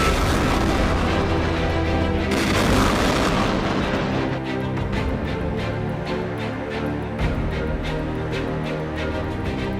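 A Pinaka rocket launcher fires in Armenia, giving a continuous loud roaring blast with a sharper burst partway through, then a rapid series of cracking pulses that ripple on to the end.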